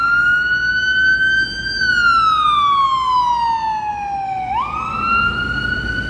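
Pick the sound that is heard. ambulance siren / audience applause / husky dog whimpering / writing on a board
ambulance siren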